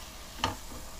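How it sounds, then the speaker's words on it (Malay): Vegetables (tomato and small-diced carrot) fry with minced meat in a pan, a soft steady sizzle with one brief clack of stirring, quiet and close. "Dan goreng kita masak bersama dengan daging lah hingga layu."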